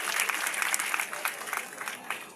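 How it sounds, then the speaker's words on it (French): Rally crowd in Pobè applauding for President Talon, dense steady clapping filling the whole stretch with faint cheers mixed in. "Je vous prie d'applaudir pour le président Talon."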